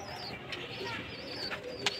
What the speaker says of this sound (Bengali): এখানে মেডাই পায়রা আছে। পায়রা ডিমে বসে আছে